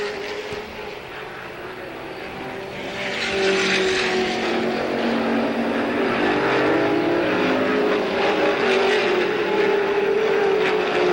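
Late model race cars roar around a speedway track in a 1985 race, a continuous engine drone that swells louder after a few seconds and stays dense, distant-to-mid-range, with no talk over it.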